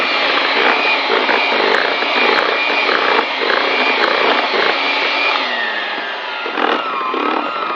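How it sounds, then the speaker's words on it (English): An electric mixer beats lemon pound cake batter with a continuous, loud motor whine and a slightly wavering pitch, heard on its own with no talking. "I'm using my mixer here to mix it up, just because it seems a lot easier."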